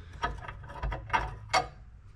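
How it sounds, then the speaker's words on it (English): A ratchet wrench working the parking brake tension bolt on a Jeep TJ, a few quick mechanical clicks and ratcheting bursts, close and fairly faint. "So we're gonna start taking our parking brake off, running this bolt back that holds tension on the parking brake cables."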